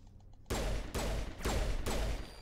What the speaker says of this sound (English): Three shots? Was that three or four shots?